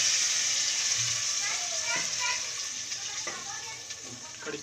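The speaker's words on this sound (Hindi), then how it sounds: "तो अभी लगने लगा है इसको तड़का" A tadka of curry leaves and red chili sizzles in hot oil for kadhi pakoda, a steady close hiss that eases slightly toward the end.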